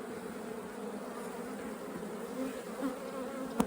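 Honey bees buzz in a steady, dense drone at a hive in late winter between snow storms, holding an even level throughout with a small swell near the end.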